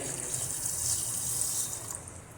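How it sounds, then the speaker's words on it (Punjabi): Steady running water from a tap splashes into a bowl of lentils being rinsed, close and continuous, with a soft rinsing swish and no talking. "ਸਭ ਤੋਂ ਪਹਿਲਾਂ ਅਸੀਂ ਦਾਲ ਨੂੰ ਧੋ ਦਵਾਂਗੇ"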